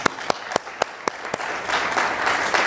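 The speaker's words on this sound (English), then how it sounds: "let's give him and all those who are present with us who have served a big round of applause" A crowd at a mayoral Navy Week proclamation bursts into applause, starting with a few sharp, evenly spaced claps that quickly swell into a fuller burst of clapping from many hands.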